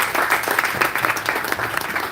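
Audience applause for the organizers of a student innovators summit at a college event, dense clapping that holds steady and close throughout.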